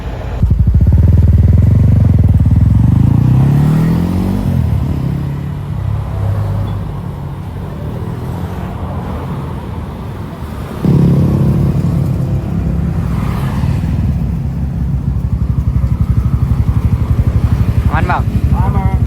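Bored-up Honda CB150 motorcycle engine revving up to 63 mm, loud and close, rising and falling through several throttle blips with a steady idle rumble between, while people talk over it.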